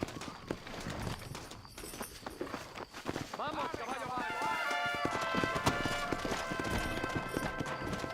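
Horse hooves clip-clop at a walking pace on a trail, steady and fairly close, with shouted voices and music rising over them partway through.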